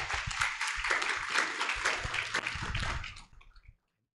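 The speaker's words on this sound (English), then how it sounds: "please give a big round of applause for Professor Dr." An audience at a botanical lecture applauds a professor, a dense wash of clapping that holds steady for about three seconds before quickly thinning out and stopping.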